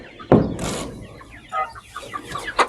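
Farm chickens cluck and squawk nearby, starting with a loud sharp call followed by a string of softer clucks and short calls, with faint background noise.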